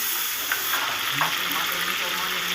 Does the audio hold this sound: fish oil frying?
yes